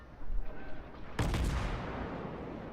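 A Kuma cruiser's guns fire high explosive shells in World of Warships, one loud booming blast over steady engine and water rumble, then the sound trails off.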